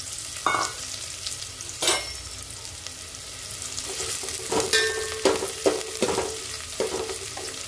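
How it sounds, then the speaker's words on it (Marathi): Chopped onion sizzles in hot oil for masala chicken while a utensil scrapes and stirs the pan in repeated strokes. "आता आपण हा कांदा कापलेला टाकून घेऊ। कांदा चांगला परतून घ्यायचा आहे।"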